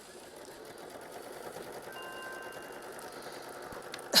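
A sewing machine stitches pieces of quilt-block fabric together with a steady, fast whirring drone at close range. It runs alone without any talk and ends with a sharp knock.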